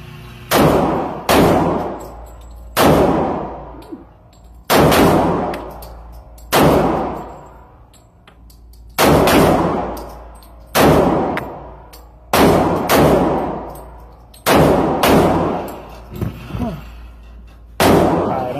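Ruger P-series pistols (P89, P94, P95) fire at a shooting range: about a dozen loud, sharp single shots at irregular intervals, each ringing out with a brief metallic tail, close to the listener.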